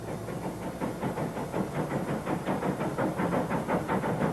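A steam train chugs past in a steady rhythmic pulse of hissing puffs, fairly loud, with a continuous rumbling undertone.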